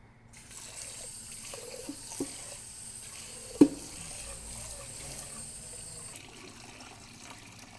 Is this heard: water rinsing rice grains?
yes